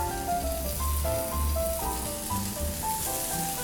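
Bacon-wrapped dates sear in a dry HexClad pan with no oil, a soft, steady sizzle heard faintly beneath light background music.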